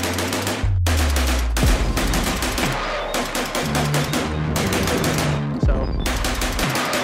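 A 12 gauge SCAR shotgun fires rapid, continuous rounds, loud and close, as sharp blasts crowd together in a dense, nearly unbroken barrage with only brief gaps.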